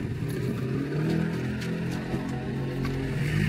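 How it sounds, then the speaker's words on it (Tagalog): A noisy motorcycle passes along a road, its engine a steady, fairly loud rumble throughout, with no voices over it. "May dumaan na motor, nagano'ng maingay"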